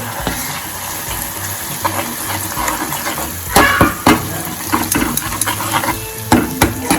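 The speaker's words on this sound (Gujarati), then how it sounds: "હવે આપણી ગ્રેવી પણ થોડીક સંતળાઈ જાય પછી જ તેમાં આપણે ઓળો એડ કરીશું।" Tomato gravy for Gujarati eggplant oro sautéing in a pan, a steady close sizzle with repeated scraping and knocking of a spoon as it is stirred, fairly loud with no talking.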